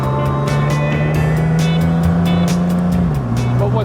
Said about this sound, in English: the engine just runs beautifully. It has a great exhaust note